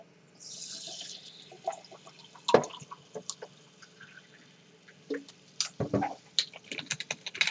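Strongly carbonated water from Eniwa, Hokkaido, fizzes with a brief burst of hiss, then scattered crackles and soft pops from bursting bubbles, close and quiet.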